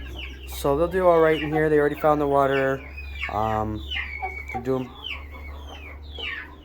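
A flock of newly added chickens clucks and squawks close by in a pen, with harmonic calls rising and falling in quick bursts while someone talks over them and a steady low hum runs underneath.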